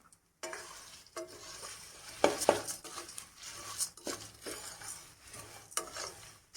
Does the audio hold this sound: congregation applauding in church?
no